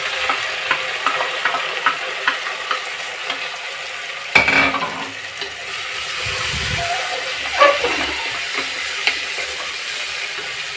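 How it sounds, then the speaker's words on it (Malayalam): Sliced onions, five of them, frying in a pan with a steady close sizzle, broken by light stirring clacks and a couple of louder scrapes, no voices. "നമുക്ക് സവാള ഇട്ടെടുക്കാം."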